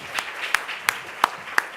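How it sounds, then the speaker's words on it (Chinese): Church congregation applauding new deacons at a Sunday service, a short, fairly faint patter of clapping with several sharper individual claps standing out at regular intervals. "那我们先拍手来恭喜这些的新的执事啊"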